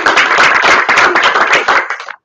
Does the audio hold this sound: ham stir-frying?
no